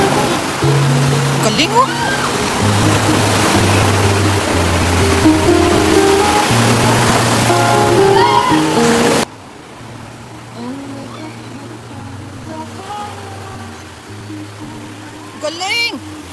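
Big, powerful surf pounds the shore at the surfing capital of the Davao region, a loud roaring wash that drops to a softer rush midway, with people talking and exclaiming over it.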